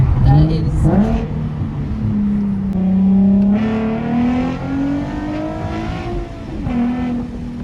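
Nissan 370Z Nismo fitted with a Tomei exhaust and Z1 Y-pipe revs loudly and close, the engine note rising and falling in steady sweeps while people talk over it.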